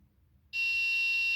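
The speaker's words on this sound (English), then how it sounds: "As you can see, the buzzer makes a sound." After a moment of near silence, an Arduino buzzer triggered by an MQ-2 gas and smoke sensor switches on abruptly and sounds a loud, steady, piercing tone.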